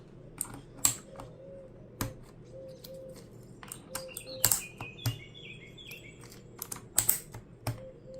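Keys clatter on an AJAZZ AK992 wireless hot-swap gaming keyboard in irregular bursts of crisp clicks, close and fairly quiet, with birds chirping faintly in the background.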